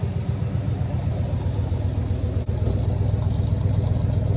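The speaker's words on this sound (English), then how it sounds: "Let's see how the exhaust sounds." A car engine with cheap power upgrades idles steadily nearby on first start, with a low, rumbling exhaust note and an even rhythm, briefly dipping before settling back.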